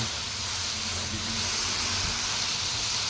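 Ingredients sautéing in a pan give a steady, close, loud sizzling hiss that holds evenly throughout, with no talk over it.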